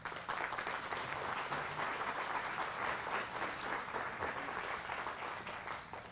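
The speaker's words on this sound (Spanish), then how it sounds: "Están muy generosos hoy con los aplausos." A live audience breaks into sustained, dense clapping at a talk, loud and even throughout with no voices over it.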